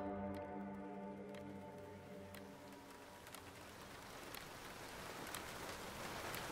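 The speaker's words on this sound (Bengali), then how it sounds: "বাইরে বৃষ্টির আওয়াজ বাড়ল, সেই সাথে বাজের চাপা গর্জন।" Steady rain falling outside, a dense even hiss with scattered drip-like ticks that grows fuller as a low fading tone drops away in the opening seconds.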